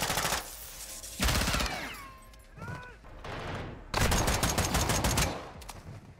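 Bursts of rapid automatic gunfire in Call of Duty: Modern Warfare II come in loud clusters separated by short lulls, with whistling sweeps between them and faint voices.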